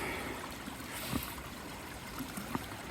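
Floodwater after heavy Arkansas rain runs through a driveway culvert, making a steady, close rushing and trickling with a few small gurgles and splashes.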